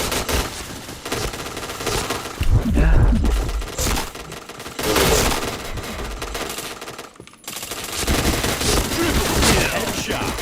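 Rapid bursts of automatic and single gunfire from the shooter video game Point Blank, loud and near, almost continuous with a short gap, while players talk over it.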